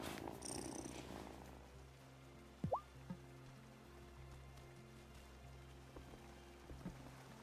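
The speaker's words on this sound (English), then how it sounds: "Listen to that purr." Cat purring in the farming video game Wylde Flowers, a faint low continuous rumble under soft ambient game sounds, with a few small drip-like blips.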